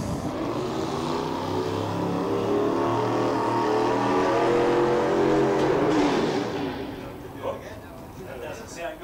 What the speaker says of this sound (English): So unfortunately for Steve, you could hear the boat revving.